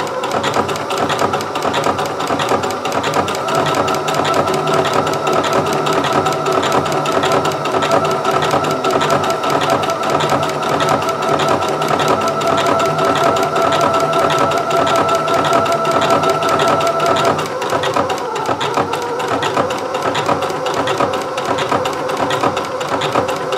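A Singer 6800C sewing machine with an overcast foot stitches fabric in a steady, continuous, close mechanical whir that runs without pause for over twenty seconds, with no talk.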